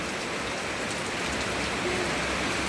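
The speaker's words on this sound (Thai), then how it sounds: "ฝนตกเบิด" Steady, dense hiss of heavy rain pouring down all day, constant and loud throughout with no pauses or voices.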